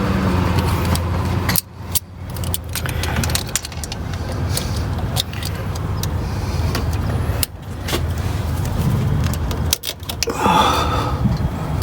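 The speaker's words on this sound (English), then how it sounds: "So we're going on to a little wrench." Small wrench clinking and scraping while fitting a fuel pressure regulator on an 80 Series Land Cruiser, steady close metallic handling with a few sharp knocks and rattles, no talking.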